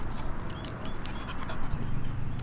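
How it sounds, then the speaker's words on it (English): A dog out in a public park, with soft whimpering and panting sounds close by over a steady outdoor background hum, no speech. "Oh, that's a very cute dog right there."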